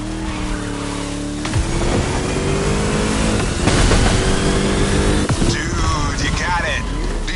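A car in The Crew Motorfest racing game fires up and revs hard, the engine roaring continuously with tire squeal and skidding layered in, loud and close throughout.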